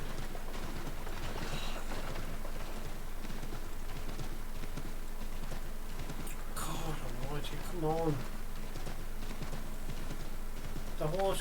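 Rhythmic clip-clop of a horse's hooves in Assassin's Creed III runs steadily throughout, mixed with game sounds while a player talks over it.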